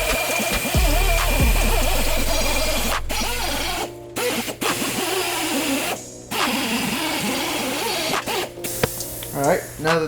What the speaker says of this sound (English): clean the rest of this shit up with a wire wheel